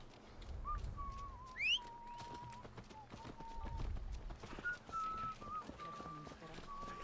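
Horse hooves clop in Assassin's Creed Valhalla, Wrath of the Druids set in Ireland, a steady low thudding gait under whistling game music and bird calls, moderately loud.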